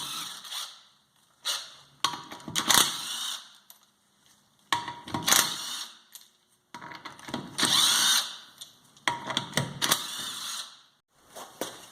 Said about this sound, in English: So now I'm going to take my electric impact gun, and I'm just going to take these nuts off.